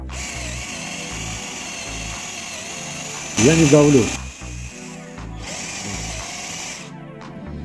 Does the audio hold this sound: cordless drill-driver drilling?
yes